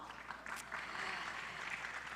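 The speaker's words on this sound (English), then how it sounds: "Can I have a big round of applause," Applause from an audience in a hotel ballroom conference session, a soft, distant wash of many hands clapping that stays steady for a couple of seconds.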